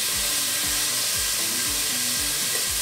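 Beef pieces brown in butter in a cooking pot, giving a loud, unbroken sizzling hiss close up, with faint low knocks recurring beneath it.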